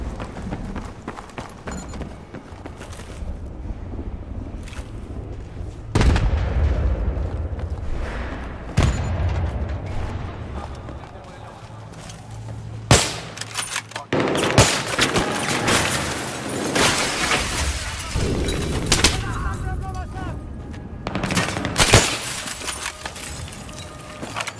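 Sustained bursts of Battlefield 3 gunfire ring out through a mall entrance at night: dense, repeated sharp cracks and rattling volleys, with shattering impacts and heavy blasts spread across the whole stretch.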